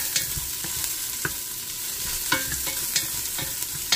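Garlic and onion sauté in a pan, a soft continuous sizzle broken by several sharp clinks and scrapes of a utensil stirring against the metal.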